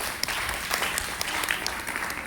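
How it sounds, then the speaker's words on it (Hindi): Audience applause at a DXN gathering honouring Dr M.C. Gupta, a dense, steady wash of many clapping hands with scattered sharper claps, moderately loud and continuous throughout. "इसके लिए जोरदार ताली बजानी चाहिए।"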